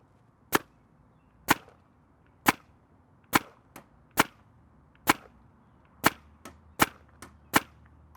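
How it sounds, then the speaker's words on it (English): Sharp shots from an Empire Battle Tested Apex 2 paintball marker, about eleven crisp pops fired one after another at irregular intervals, some with a faint trailing thud of impact, loud and close with no talking. "We'll see if we can get a shot to go underneath it"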